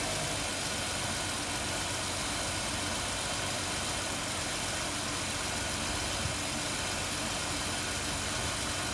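A 2005 Ford Taurus engine idles steadily with a constant low hum and faint vibration, running alone with no voices throughout.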